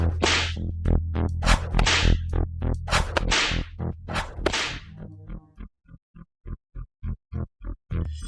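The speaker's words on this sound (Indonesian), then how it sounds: "Aku menyuruhmu mencambuknya, jadi cambuk dia." Repeated sharp whip cracks lashing a prisoner, loud and close in a rapid series, with a low rumbling background at first that drops away, leaving isolated evenly spaced lashes.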